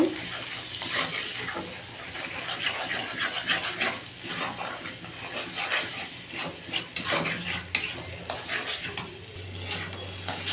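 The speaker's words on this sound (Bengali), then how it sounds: "ভালো করে কষিয়ে নেব" Paneer sautéing in a pan with salt, chili powder, turmeric, cumin and coriander powder: steady scraping and stirring with a soft sizzle underneath, close and continuous, with no talking.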